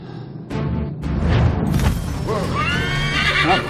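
A horse neighs and whinnies in Assassin's Creed III, its rising, wavering calls loud and close over hoofbeats and game ambience during a mounted ride.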